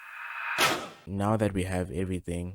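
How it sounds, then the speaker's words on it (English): A music-production riser sweeps upward for about half a second and lands on a loud stomp hit, then gives way to someone talking. "which is just a riser and a stomp sound"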